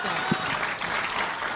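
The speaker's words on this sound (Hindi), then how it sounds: "इनके लिए ज्यादा ताली बजा रहे हो तुम लोग।" A live audience claps loudly and steadily after a recited couplet, dense applause filling the whole short moment with a voice briefly over it.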